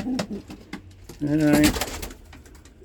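Racing pigeons cooing in a loft where young birds are hatching, a close, throaty rolling coo in the middle with someone talking over and around the birds.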